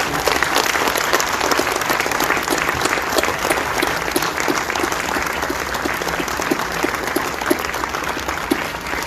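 Sustained audience applause fills a book launch gathering, a dense, steady wash of many hands clapping at a constant loud level with no break.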